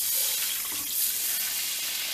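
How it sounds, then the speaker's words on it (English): Water streams from a tap into a cooking pot in a steady, hissy pour that stays constant and fairly close for about two seconds. "And I add my water in,"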